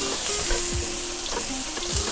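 Salmon and asparagus fry in a pan with a dense, steady close sizzle, broken by a few light stirring scrapes and knocks, with no voices.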